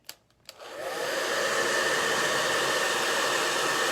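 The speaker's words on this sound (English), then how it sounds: "Let me hit this with the blow dryer." A blow dryer switches on after a couple of short clicks and runs with a steady, loud whooshing roar close by, drying a craft project.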